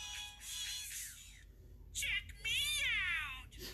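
A cartoonish meowing tune from the Roblox game Beanie Boos Tycoon, with sliding, cat-like vocal notes playing through a speaker, faint background noise and a brief pause mid-way.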